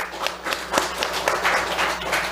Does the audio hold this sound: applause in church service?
yes